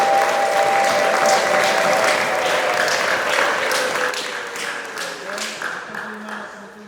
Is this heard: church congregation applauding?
yes